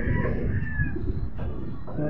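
A racing pigeon gives soft, low cooing close by, a short burst of throaty murmurs at a fairly quiet level.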